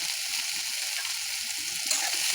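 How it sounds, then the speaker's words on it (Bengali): Potato, onion, carrot and chilli frying in a pan, a steady close sizzle with faint stirring scrapes and no talk. "আলু পেঁয়াজ গাজর লঙ্কা দিয়ে ভালো করে ভেজে নিতে হবে।"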